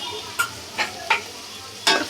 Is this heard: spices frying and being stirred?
yes